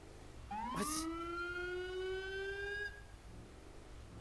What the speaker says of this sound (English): Nope, just a boat with a siren.